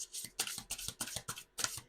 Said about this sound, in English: I'm going to shuffle these really quick